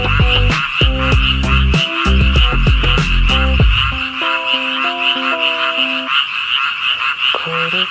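A steady chorus of frogs croaks loudly and continuously from a small pond beside a cafe, layered over gentle acoustic cafe music with plucked guitar and piano notes.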